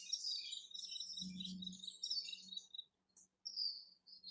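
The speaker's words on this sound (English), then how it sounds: "is the California towhee that Genesis took a picture of earlier, and makes that kind of sound" Bird calls from a California towhee in a marshland setting, high chirps and tweets repeating in close clusters, with a faint low hum beneath and brief quiet gaps.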